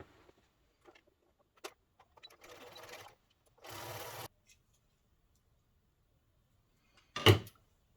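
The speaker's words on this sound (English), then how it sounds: "I'll stitch really close to the edge of that fold to keep it all together" A sewing machine stitches close along the fold of a fabric gift bag in two short, fairly quiet bursts, with scattered small knocks around them and a sharper clunk near the end.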